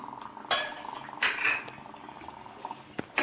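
A spoon stirs a mixture of milk and water in a pot, clinking and scraping against the metal in several sharp strikes amid softer swishing, close up, with no talk.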